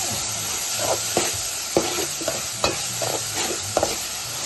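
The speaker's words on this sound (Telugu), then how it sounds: "టమాటాలు ఉల్లిపాయలు మగ్గిన తర్వాత ఒక స్పూన్ అల్లం వెల్లుల్లి పేస్ట్ వేసుకుందాం." Ginger garlic paste frying with tomatoes and onions in a pan gives a continuous sizzle, broken by a series of sharp spoon scrapes and taps in an irregular rhythm, close and fairly loud, with no voices.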